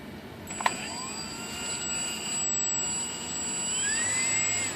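Electric motor of an E-flite Conscendo S spins its repaired folding prop, producing a thin, steady whine with a brief click near the start, the pitch drifting and shifting slightly as the throttle changes.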